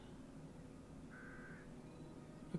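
A single short crow caw sounds faintly in the middle of quiet outdoor ambience in the Carol Reed Mysteries video game, set against a steady low background hiss.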